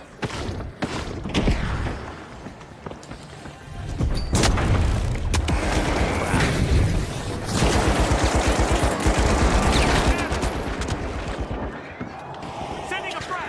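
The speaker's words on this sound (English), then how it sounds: "Throwing the frag." A video game battle erupts with a thrown frag grenade and sustained gunfire: loud, dense bursts of shots and booming blasts rolling over several seconds, with a player's voice talking at times.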